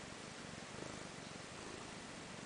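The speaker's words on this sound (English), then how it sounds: "Oh, I can hear you purring." A cat purrs continuously up close in a soft, even rumble with no talking, against a hiss of background noise.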